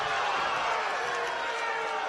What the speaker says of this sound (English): Cedar Cliff crowd not liking it